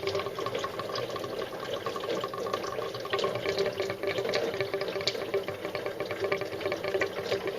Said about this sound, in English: fluid is coming out of the heater core.